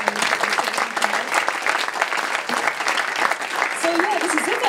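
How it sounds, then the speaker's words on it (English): Audience applauding a speaker at an evening debate night, a loud, sustained burst of clapping with voices and cheers mixed in, and a bit of talking near the end. "Very, very big applause for Wiede Verknokkers."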